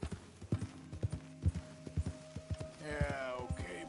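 A horse in the video game Red Dead Redemption 2 clip-clops along at a steady trotting rhythm, hoofbeats close and distinct, followed by a brief neighing snort near the end.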